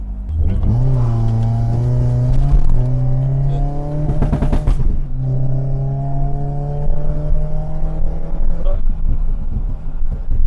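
A BMW E30 with a swapped M44 engine revs close by, the tone climbing and holding, dipping briefly and rising again into a sustained loud drone, with people talking faintly beneath it.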